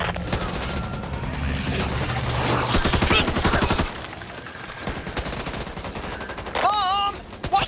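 Rapid bursts of automatic gunfire and single shots from the zombie shooter game Back 4 Blood crackle loudly over a dense game soundscape, with brief shouted voices mixed in.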